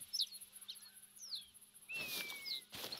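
Birds calling in theHunter: Call of the Wild while out hunting at Hirschfelden, quick chirps and one longer whistled call against a quiet hiss, with a brief burst of rustling noise in between.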